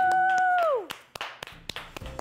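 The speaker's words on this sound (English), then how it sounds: "Round of applause," A handful of scattered hand claps from a small group in a 200 sq ft studio apartment, sharp and uneven, following a rising and falling whoop from a voice.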